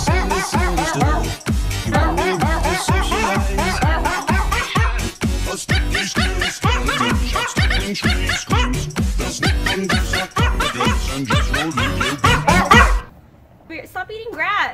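A dog barks rapidly and repeatedly, close by and loud, with a person talking over the barking until it cuts off near the end.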